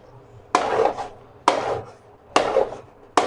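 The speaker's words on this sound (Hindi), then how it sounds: "बस इसको मुसलसल हिलाते रहना" Semolina halwa stirred in a pot, four strong rasping scrapes of a spoon against the pot bottom at a steady rhythm, each a short grinding sweep with brief pauses between, loud and close with no voices.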